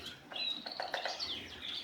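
Small caged pet birds, coppers kept in single cages, give a few quick thin chirps and tweets, fairly faint and close, with no talking.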